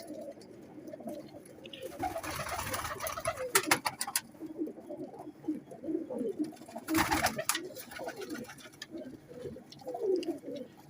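Pigeons coo in soft, rolling murmurs nearby, with flapping and rustling bursts between the calls.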